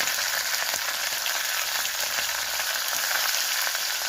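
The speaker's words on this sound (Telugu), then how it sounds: "చూడండి తాలింపు అవుతున్నది ఇప్పుడు" Oil tempering with asafoetida, fenugreek, dry red chillies and curry leaves in a kadai, a steady close crackling sizzle that holds evenly throughout with no talking.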